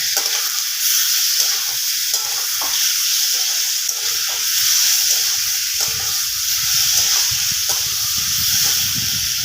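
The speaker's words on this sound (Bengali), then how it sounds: "লাউ একটু মিষ্টি মিষ্টি খেতে ভালো লাগে এবার ভালো করে কষিয়ে নেব" Bottle gourd sautéed in a pan, a loud steady sizzle and hiss with rhythmic scraping strokes of a spatula stirring through it, continuous and close.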